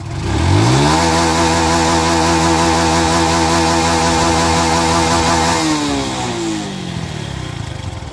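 A Honda Wave 110i motorcycle fitted with a Dream Super Cub 110i ECU box revs hard to its limiter near 10,000 rpm. The loud, close engine climbs quickly, holds a buzzing high pitch for several seconds, then drops back toward idle.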